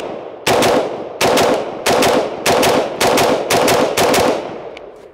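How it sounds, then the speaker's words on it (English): A Daniel Defense DD4 M4A1 rifle fires a rapid series of loud, close paired shots, about seven sharp cracks in quick double-tap rhythm, each followed by a short echo, with no talking. "It's really not any issue for me to make good A-zone hits while double tapping the rifle."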